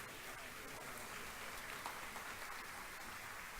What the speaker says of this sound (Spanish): así lo recibimos con este aplauso